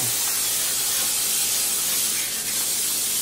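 A steady, broadband aerosol non-stick butter cooking spray hisses continuously for a few seconds into a 9 by 13 baking dish, close and fairly loud, with no talking.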